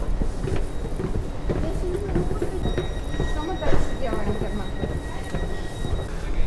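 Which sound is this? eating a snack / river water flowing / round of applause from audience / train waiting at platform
train waiting at platform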